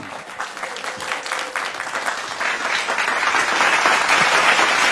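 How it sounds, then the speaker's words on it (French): An audience at an evening concert claps steadily, the dense applause growing slightly louder over the few seconds, with no talk. "Je voudrais vous demander d'accueillir avec des applaudissements, alors là, bien nourris, Jean-Eudes Jovial"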